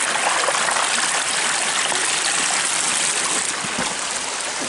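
Creek water rushes over gravel in a loud, steady, broadband wash, close by and unbroken, with no talk.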